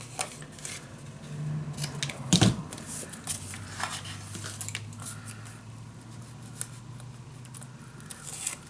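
Scissors cutting paper corners for a mini album in a storage box: a few crisp snips and paper rustles close by, with one louder handling thump and soft crinkling throughout.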